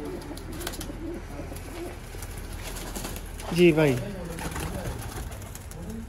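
Golden pigeons give a soft, close coo in a short burst midway through, over a quiet background, while someone speaks briefly nearby.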